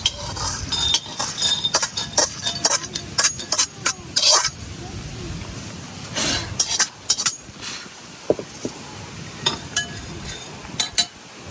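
Flaxseed being dry-roasted in a pan right after peanuts, with a utensil scraping and clinking against the metal in irregular bursts and soft rustling of seeds between strokes.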